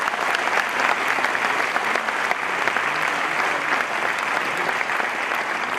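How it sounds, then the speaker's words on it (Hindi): A large audience at an Amway diamond success celebration breaks into thunderous, sustained applause, a dense, even wash of clapping that holds steady throughout. "गगनभेदी ताली।"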